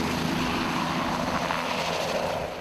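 A helicopter flies during a large-scale active shooter drill in Medford, making a steady, loud, broadband rotor and engine roar that holds evenly and fades slightly at the end, with no talking.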